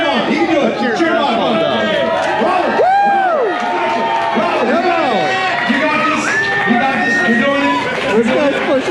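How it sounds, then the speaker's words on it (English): A lively outdoor festival crowd cheers and shouts encouragement at a man eating hot peppers, overlapping excited voices and whoops at close range throughout, loud and continuous. "Let's cheer him on."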